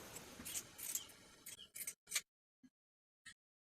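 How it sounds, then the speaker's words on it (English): Scissors snip into the curved seam allowance of dress fabric, a series of crisp, quiet cuts that slow to two isolated clips, with no talking. "clip into the curves using scissors or pinking shears"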